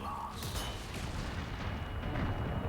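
Flashbang grenades detonating in Resident Evil 4, a few brief, muffled booms and sharp pops set against a busy rumbling game background.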